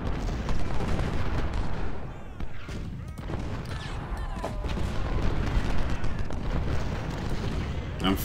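Gunfire and artillery in the Ultimate General: Civil War video game: a dense, continuous roar of massed musketry with booming cannon blasts mixed through it, loud and unbroken for the whole stretch.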